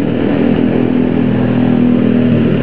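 Motorcycle engine droning loud and steady while riding slowly in a group on a Sunday morning ride, a continuous close rumble with no talking.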